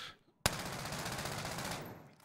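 Rapid automatic gunfire in a video game, a loud sustained burst that starts abruptly and keeps up an even, dense rattle for nearly two seconds before tapering off.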